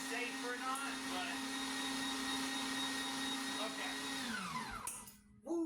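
CHEFFANO electric meat grinder running steadily with a loud motor whine, close by, then winding down in falling pitch as it shuts off near the end, followed by a brief clatter.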